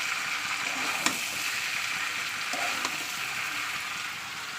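Kudri aloo bhaja, ivy gourd and potato, sizzles steadily in hot oil, with a continuous frying hiss and a couple of faint stirring knocks.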